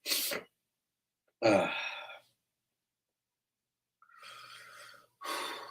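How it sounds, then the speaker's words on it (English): Several sharp, breathy bursts separated by silence, a person caught in a fit of allergy sneezes, close and fairly loud. "I really hope I stop sneezing. I hate sneezing fits."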